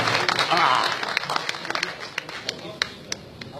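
Audience applause breaks out at a 2017 mushaira poetry gathering in Surat: a burst of clapping and crowd noise that fades into scattered single claps, with voices calling out over it.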